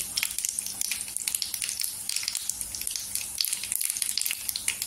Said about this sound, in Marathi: अर्धी चमचा मोहरी टाकायची। छान अशी तरतरली पाहिजे